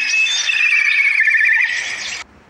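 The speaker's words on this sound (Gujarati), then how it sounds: "આને કહેવાય KITE, કાઈટ એટલે" Kite bird call, a single long high-pitched whistling cry with a quavering, wavering tone, loud and close, ending abruptly with nothing else heard.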